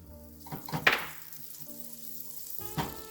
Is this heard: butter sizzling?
yes